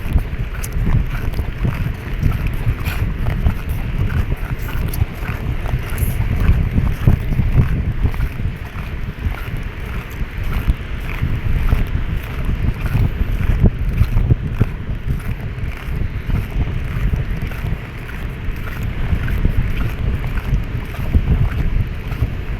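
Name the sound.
strong wind at sea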